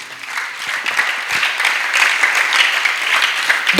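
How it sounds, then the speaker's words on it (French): A church congregation applauds for the Lord, a steady, dense wash of many hands clapping together that holds at full strength throughout. "Est-ce que tu peux acclamer pour le Seigneur?"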